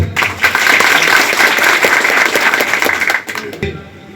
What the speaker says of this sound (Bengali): সবাই জোরে একটা করতালি দিব